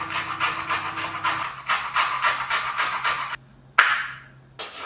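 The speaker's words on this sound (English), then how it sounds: "grating the skin of an large orange and then keeping it aside" An orange's skin is grated for zest in rapid, steady rasping strokes that break off briefly, then return with one sharp stroke that tails away, close and fairly loud with no talking.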